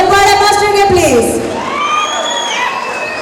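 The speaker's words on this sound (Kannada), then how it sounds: "ಬನ್ನಿ ಚಪ್ಪಾಳೆ ಮಾಸ್ಟರ್ಗೆ ಪ್ಲೀಸ್." A dance event crowd cheering and whooping for a dance master, loud and close, a dense wash of shouting voices with rising whistles and cries over steady clapping noise.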